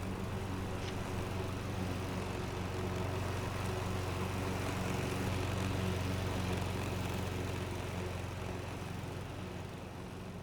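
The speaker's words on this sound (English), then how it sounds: "You chose a great time to mow the grass" Lawn mower running nearby as grass is mowed, a steady droning engine hum that holds evenly throughout with no talk.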